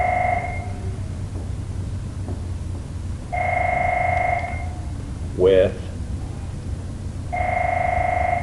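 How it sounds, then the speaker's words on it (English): A telephone rings with a double-tone electronic trill during a statistics lesson, three separate bursts with gaps between them, under a speaking voice, fairly close and clear. "Of course, the phone would ring now, right?"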